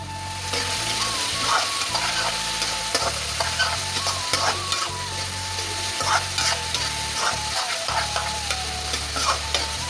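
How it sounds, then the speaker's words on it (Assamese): Onions and mixed vegetables with turmeric sizzle steadily in a hot pan, a spatula scraping and stirring through them in irregular strokes, close and continuous with a low background hum. "আৰু পিঁয়াজখিনি ধুনীয়াকৈ হিলাই ল'লোঁ, অলপ সিজাব লাগিব"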